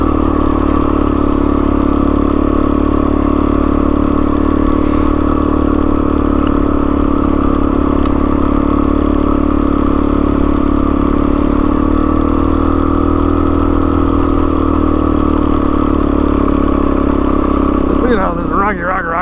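A motorcycle climbs a rocky trail in first gear, its engine holding a loud, steady drone with a little rattle that carries through to the end.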